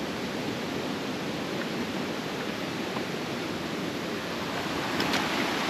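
A waterfall on a creek roars steadily and close, a continuous wash of rushing water with no voices.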